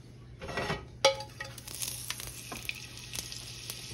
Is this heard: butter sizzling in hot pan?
yes